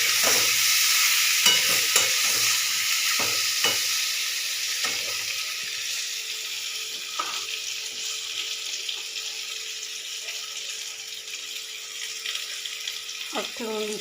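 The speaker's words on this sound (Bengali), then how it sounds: "ওলকচু আর আলু দিয়ে দিলাম। একটু ভাজবো" Chunks of elephant foot yam and potato fry in a pan with a continuous close sizzle, a spatula scraping and stirring at intervals, easing slightly as it goes on; a voice speaks briefly.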